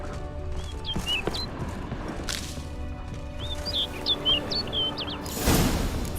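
Bird chirps from the fantasy role-playing game The Witcher 3: Wild Hunt, short bright tweets in scattered clusters over quiet outdoor ambience, with a few thuds and a louder rustling burst near the end.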